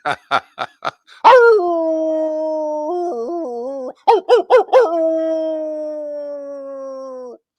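A man on a live radio show imitates a wolf with his voice: a burst of short yips, then long wavering howls, more yelps and a final sustained howl, loud and close.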